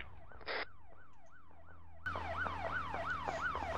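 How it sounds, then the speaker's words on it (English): Wailing emergency vehicle siren in the military video game ARMA, its rising and falling sweeps repeating steadily, quieter at first then suddenly louder and closer halfway through, with a brief hiss burst early on. "Turn that siren off."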